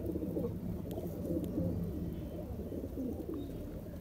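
Teddy pigeons, a male and female pair in a loft near the border at Sialkot, coo in soft, low, continuous murmurs that hold steady throughout with no talking over them.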